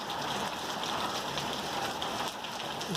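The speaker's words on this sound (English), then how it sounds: "It's a pretty good downpour." Hard rain from a pop-up afternoon thunderstorm pours down in Green Valley, a dense steady hiss of drops striking the ground and surfaces all around, loud and continuous with no pauses.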